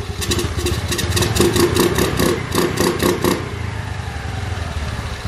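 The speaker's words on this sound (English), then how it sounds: "You can definitely hear the induction noise." Intake induction roar from a 2022 Honda Navi motorcycle with an aftermarket intake as the throttle is blipped in a rapid series of close, loud revs. It settles back to a steady idle for the last couple of seconds.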